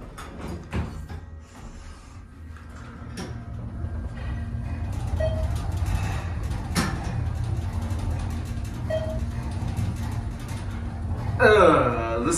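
Steady low mechanical rumble and hum of a running ThyssenKrupp hydraulic elevator in a parking garage, with occasional clunks and a brief squeal of door or mechanism near the end.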